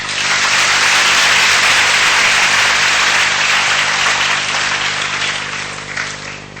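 Dense, loud applause from a large hall of students at a university science faculty orientation, a steady wash of clapping that holds for several seconds before slowly tapering off.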